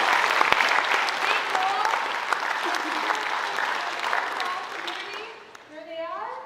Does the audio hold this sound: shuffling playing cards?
no